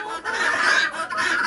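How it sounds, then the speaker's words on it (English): Muscovy ducks calling together in a close, continuous chorus of breathy, raspy chatter that dips briefly and then resumes, loud and steady with no talking. "all the Muscovy ducks are in this area now"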